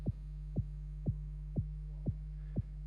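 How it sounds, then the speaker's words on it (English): Low sine-wave rumble synthesized for minimal techno, a steady deep hum pulsed by six evenly spaced thumping beats about half a second apart, loud and alone. "multiply the output by a number, which then gives us a kind of a very low end rumble"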